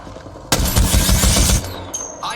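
Gunfire in the video game Apex Legends: a loud, rapid burst of automatic shots lasting about a second, followed by quieter mechanical clicks and tones.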